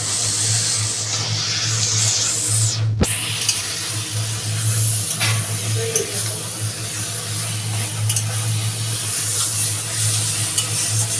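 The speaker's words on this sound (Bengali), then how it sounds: "অনেকক্ষণ হয়ে গেল আমরা নাড়ছি, 10 মিনিট হয়ে গেল, আমরা এখনো নেড়েই যাচ্ছি।" Taro greens and hilsa fish frying in a pan while being stirred, a constant close sizzle with occasional scraping and one sharp knock, no voices.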